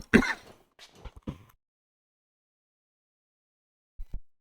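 A rough throat clearing up close, followed by a couple of short hacking coughs, then silence and two faint low thumps.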